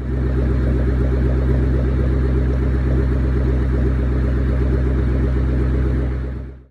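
A 2003 Ford Mustang Mach 1 in azure blue idles close by with a steady, low, throbbing rumble that holds even throughout and then cuts off at the end, with no one talking.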